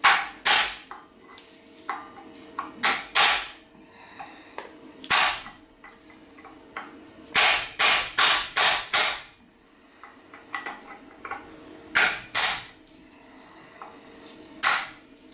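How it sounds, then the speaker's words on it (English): Hard metallic strikes of a hammer driving a chisel against a seized nut, sharp ringing blows in irregular clusters with short pauses between, close and loud. "I'm going to take a chisel and a hammer, and I'm going to strike the outside surface of this pretty darn hard"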